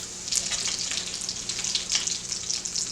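Potato latkes, flattened scoops of grated potato mixture, frying in a pan: a steady, fairly loud hissing sizzle with crackling pops throughout, no voices.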